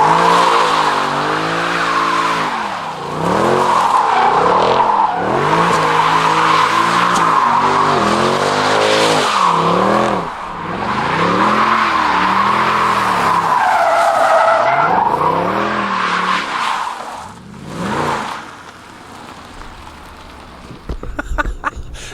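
A tuned Mercedes C63 with over 500 hp doing burnouts and donuts, its tires squealing loudly and continuously with wavering pitch over the engine's roar for about twenty seconds before the noise breaks up near the end.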